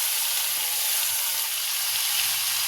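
A mourala fish mixture hits hot oil in a kadai, giving a loud, continuous, close sizzle with a dense, even hiss that holds steady throughout.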